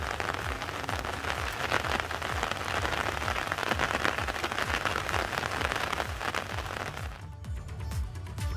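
Heavy monsoon rain pours down steadily and loudly in a Himalayan valley along the Badrinath highway near Joshimath, a dense continuous hiss of drops on surfaces that thins slightly near the end.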